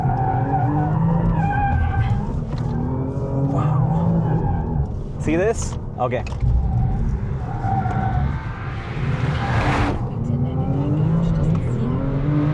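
A 2026 Audi RS5 on a small test circuit understeers, its tires scrubbing and squealing in short bursts over a steady engine drone, with a driver talking throughout and a rising screech near the end.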